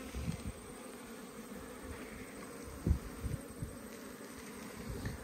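Honey bees buzz steadily around an open hive in autumn, a close, continuous droning hum with occasional louder passes of single bees near the ear.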